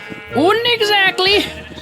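Sheep in the Minecraft video game bleat in a few drawn-out, wavering calls, loud and close, on a sheep farm being built, with someone talking softly around them.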